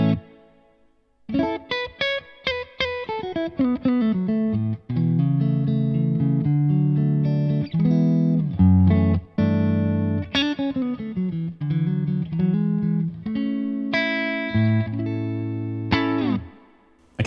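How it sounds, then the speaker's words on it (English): Clean electric guitar through a V4 amp and Quad Cortex with reverb added: plucked single notes and sustained chords ring out with a spacious tail, close and loud, with no voices. "I'm then just going to bring in the reverb so you get a taste of how that sounds."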